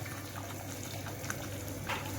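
Water poured into a pot of home-style mutton curry, a steady close rushing and bubbling wash running for the whole stretch without pause.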